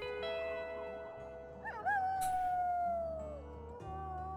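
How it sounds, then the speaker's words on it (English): Wolves howl in the WolfQuest game, a long rising then slowly falling howl over steady ambient game music and low rumble, with a shorter yip near the start. "And then we start howling."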